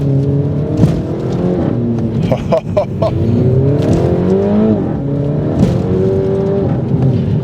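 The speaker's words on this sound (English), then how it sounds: "this tune that he's got on it makes it feel like a raucous and extremely potent engine" A tuned Mini Cooper S engine revs hard and loud up through the gears out of tight corners, with rising whines, brief shifts and a raspy exhaust note, close up.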